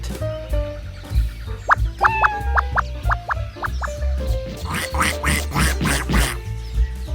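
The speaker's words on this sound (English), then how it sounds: "Duck." Duck quacking in a series of loud, close calls, several clipped quacks followed by a faster burst of harsher ones over a low background rumble.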